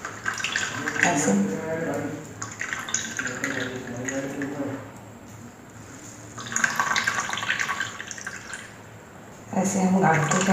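Water drains and drips from a cloth bundle of fresh chhena being squeezed for rasgulla, a soft watery trickle running beneath steady talking throughout.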